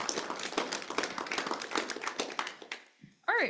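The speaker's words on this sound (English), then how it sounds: "please give a round of applause for Katie Campbell" Applause from a club audience welcoming a young member's presentation: dense, steady clapping close to the listener for about three seconds, fading out, followed by a brief rising tone or squeal at the end.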